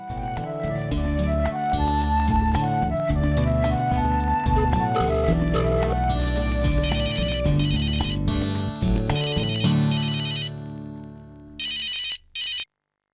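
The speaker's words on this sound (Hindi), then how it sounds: "उसे फिर से फोन करते हैं।" A phone rings with a melodic ringtone during an outgoing call, playing loud and close as a repeating tune for several seconds before cutting off in short bursts.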